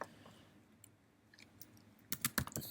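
Keys clatter on a computer keyboard while an SQL query is written for an Android SQLite project, quiet at first, then a quick burst of close, crisp keystrokes near the end.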